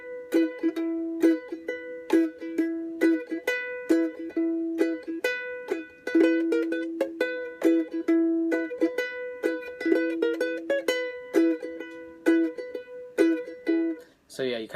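A ukulele plays the SpongeBob SquarePants end theme, bright plucked and strummed notes in a bouncy, steady melody lasting about fourteen seconds, close and unaccompanied.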